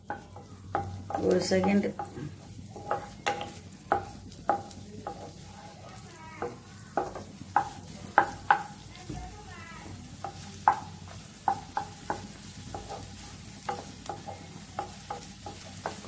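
Vegetables for veg fried rice sauté in a hot pan with a soft continuous sizzle, broken by repeated sharp clanks of a spatula stirring at an uneven rhythm, and a voice speaks briefly early on.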